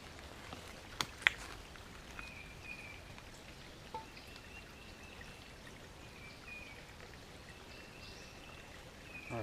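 Water flows through a cloth bandana into a gravity filter bladder outdoors, making a steady close hiss and trickle with occasional small drips and splashes.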